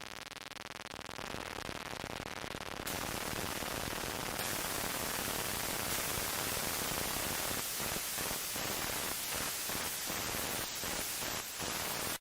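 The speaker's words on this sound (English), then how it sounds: "I like that start, the way the static phased into a beat" Crackling static hiss fills the opening of the song, loud and steady, then a rhythmic pulsing beat emerges through the noise.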